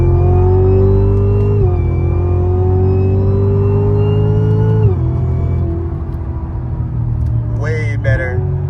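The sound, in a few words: Cadillac CTS-V accelerating hard from third gear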